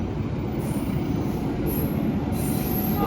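The Sri Tanjung economy-class train to Banyuwangi rolls steadily along the rails in Indonesia with a constant rumbling drone, punctuated by high-pitched wheel squeals that come and go.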